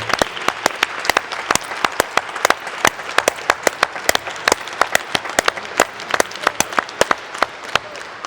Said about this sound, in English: I'd like to give a collective round of applause for all the service to this district that they've all given.